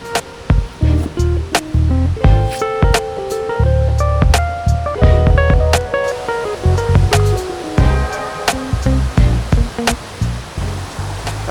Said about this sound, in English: Looks like the waterfall is in operation in full swing.